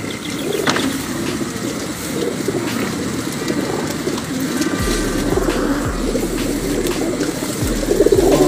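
Pigeons coo repeatedly nearby, soft throaty calls over a steady background hum of traffic or machinery.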